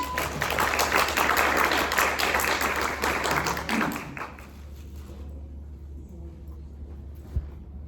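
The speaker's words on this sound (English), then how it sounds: "So everyone, please give a round of applause to Micah." Audience applause for Micah at an alumni event, dense clapping for about four seconds that then fades to quiet room tone with a single late thump.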